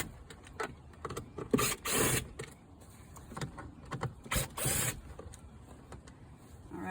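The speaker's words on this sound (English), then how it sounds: "Take the cover off." Plastic glove box cover being pried and removed from a 2018 Nissan Frontier dashboard, several close clicks, snaps and rattling scrapes in short bursts with quiet gaps between.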